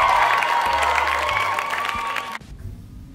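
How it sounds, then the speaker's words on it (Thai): Children in a classroom clap and cheer together for themselves, a dense burst of applause with excited voices that runs about two seconds and then cuts off suddenly, leaving a few faint sounds. "ไหนใครทายถูกหมดปรบมือให้กับตัวเองหน่อยค่ะ"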